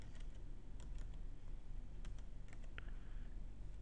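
Soft, quick keystrokes tap on a computer keyboard while Java code is entered, faint clicks over a low steady hum.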